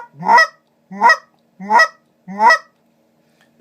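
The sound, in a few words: Basin Calls BigShot goose honker call blown softer, quieter and lower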